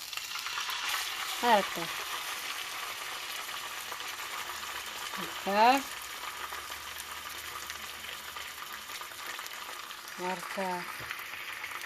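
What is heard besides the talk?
fish frying in a pan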